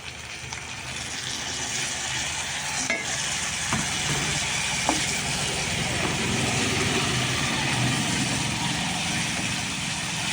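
Grated raw mango being fried in oil for mango rice, a continuous dense sizzle with a few soft stirring knocks, close and steady for the whole stretch, no voices.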